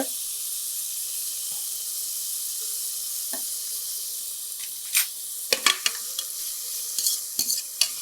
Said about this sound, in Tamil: இதை வந்து ஒரு ரெண்டுலேருந்து மூணு நிமிஷம் நல்லா வதக்கி எடுத்துக்கலாம்